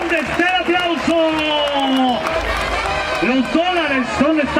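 A crowd at a jaripeo in Santa Fé de la Laguna, Michoacán keeps up a steady wash of clapping and cheering under prominent, wavering tones that are likely music.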